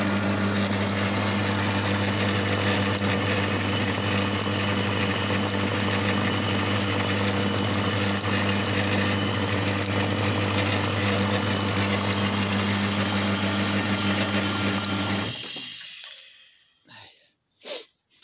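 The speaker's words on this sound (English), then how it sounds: "she, with these metal exhaust baffles on, just is such a gorgeously quiet compressor in operation" A vintage 1960 Bellanger Bros V-twin air compressor with metal exhaust baffles runs steadily with an even, droning engine hum for about fifteen seconds, then shuts off abruptly, leaving a few faint knocks and puffs as it winds down.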